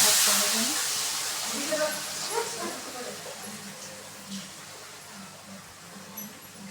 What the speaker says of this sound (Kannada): ಎಣ್ಣೆ ಹಾಕ್ಕೊಂಡಿದ್ದೀನಿ ಆಲ್ರೆಡಿ, ಅದಕ್ಕೆ ಸ್ವಲ್ಪ ಮಸಾಲೆ ಏನು ಕಟ್ಕೊಂಡಿದ್ದೆ ಹಾಕ್ಕೊಂಡಿದ್ದೀನಿ